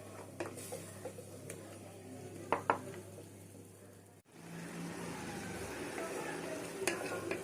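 Ginger garlic fries for Pollachi chicken curry, a quiet sizzle with occasional spoon taps and scrapes, then a fuller, louder frying hiss after a brief pause, heard close with no voices.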